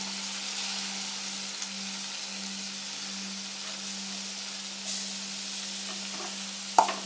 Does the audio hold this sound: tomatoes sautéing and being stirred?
yes